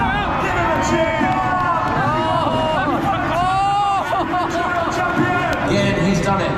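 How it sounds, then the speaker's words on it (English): A big indoor crowd roars and cheers continuously for the champion at the Super Enduro motorbike event in Newcastle, a dense, steady wall of voices with whistles and shouts rising over it throughout. "Give him a cheer."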